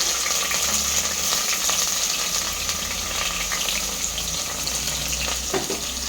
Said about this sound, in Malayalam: ഇനി ഇതിലേക്ക് ഉള്ളി ഇടാൻ വേണ്ടി പോകാൻ കേട്ടോ.